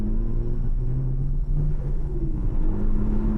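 A Lexus IS200 turbo drift build's engine drones close, warming up with low rumbling and rising, shifting revs, heard from inside the car.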